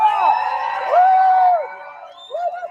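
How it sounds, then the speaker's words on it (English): A woman cheers in a crowd in Times Square, New York City, her high sustained ululating whoops close and loud, with further shrill calls trailing after a short dip. "Listen to the cheers here from this woman."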